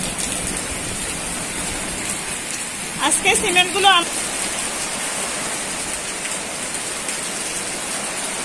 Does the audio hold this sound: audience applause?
no